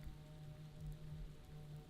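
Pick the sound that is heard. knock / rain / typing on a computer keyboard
rain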